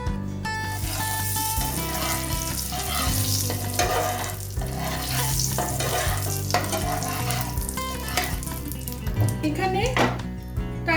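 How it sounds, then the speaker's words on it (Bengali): Two spoons of Kashmiri red chili powder sizzle in hot oil while being stirred, a continuous close frying hiss broken by scraping strokes of a spoon across the pan, with no talking. "তেল গরম করে আমি এর মধ্যে 2 চামচ কাশ্মীরি লাল গুঁড়ো মশলা দিয়ে দিলাম। এটা আমি ফ্রাই করে নিচ্ছি।"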